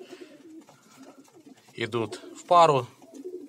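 Pigeons coo softly in the background during a morning feeding, with someone speaking briefly over them in a quiet, close setting.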